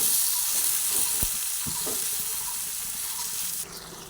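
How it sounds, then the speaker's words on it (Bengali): Potatoes and brinjal frying in a pan give a steady loud sizzle, with a few scraping knocks as the pieces are stirred, close up and without talk. "ভালোভাবে নাড়াচাড়া করে নিয়ে বেগুনগুলোকে দিয়ে আলু আর বেগুন একসঙ্গে ভেজে নিলাম"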